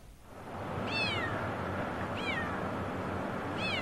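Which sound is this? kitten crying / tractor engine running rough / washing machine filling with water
kitten crying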